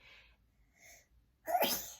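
A sharp, close sneeze erupts near the end after a stretch of faint breathy sounds, loud and on its own.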